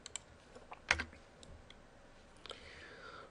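Faint keystrokes on a computer keyboard as a web address is entered, a few sparse clicks with one louder tap, in a quiet room with no talking.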